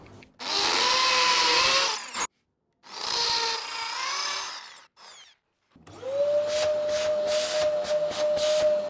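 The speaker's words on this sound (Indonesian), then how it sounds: "Kemudian mata bornya saya ganti lagi dengan mata bor tembok" A power drill with a masonry bit whines loudly in three separate bursts, grinding into a wall with short pauses between runs.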